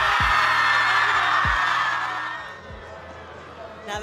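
Young students at a school scream and cheer loudly in excitement, a dense continuous burst of shouting voices that gradually fades, with low thumps and some talk underneath.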